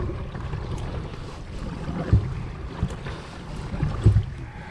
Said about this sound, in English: Some big waves coming in here.